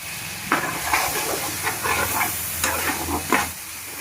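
Tomatoes and curry leaves frying in masala for a drumstick and fish curry, a loud close sizzle and hiss with repeated spatula scrapes and stirring knocks, no speech.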